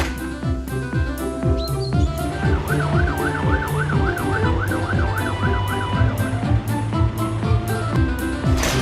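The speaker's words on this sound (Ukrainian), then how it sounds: "гучна сирена, яку чують всі машинки" A loud fire truck siren wails in fast rising-and-falling cycles over a bouncy rhythmic music track, steady throughout.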